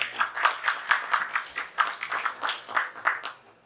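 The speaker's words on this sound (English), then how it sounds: "Please welcome all the panel speakers with a huge round of applause." An audience at a technology panel discussion claps for the panel speakers, a loose patter of many hands rising and falling in uneven bursts for several seconds.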